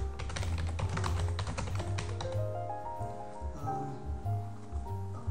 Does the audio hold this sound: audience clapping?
no